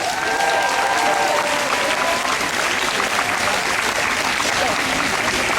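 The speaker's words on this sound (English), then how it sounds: "Okay, so huge clap to the organisers of the march." A crowd at a march rally applauds the organisers, dense sustained clapping filling the whole stretch at close range with no pause.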